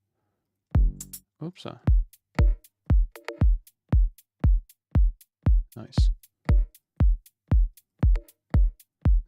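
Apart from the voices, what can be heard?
isolated clave sample with gain cranked up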